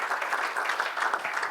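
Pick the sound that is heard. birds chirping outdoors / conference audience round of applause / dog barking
conference audience round of applause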